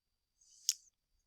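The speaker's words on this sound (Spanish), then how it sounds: "vamos a darle un clic aquí a esta botonera" A single quiet mouse click on an on-screen button, a short crisp tick with a faint soft rustle just before it, isolated in near silence.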